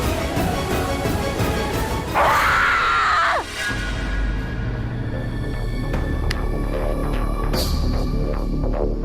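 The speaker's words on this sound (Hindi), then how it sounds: "ये किसकी चीखने की आवाज थी?" A person screams in a tense kidnapping scene at home, a loud rising cry lasting about a second and a half, then cutting off into a low steady rumble with faint background tones.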